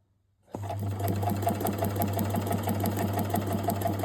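A sewing machine stitches a child's headband: after a short silence its motor starts and runs at a steady, rapid, even chatter of stitches, loud and close, with no voices.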